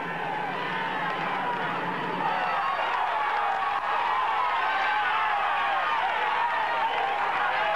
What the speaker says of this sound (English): French crowd going absolutely mad here